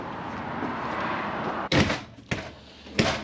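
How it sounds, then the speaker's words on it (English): Entry door of a 2021 Jayco Jay Feather 27BHB travel trailer being opened outdoors, with a few sharp latch and thump sounds over a steady wind-like rumble. "Let's open the door."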